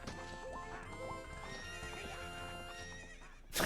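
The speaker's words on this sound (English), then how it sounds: "What's up with that horse? Is that Epona?" A horse in the video game Ocarina of Time gallops with rhythmic clip-clop hooves and gives a clear neigh, set against the game's music, with a brief loud burst at the very end.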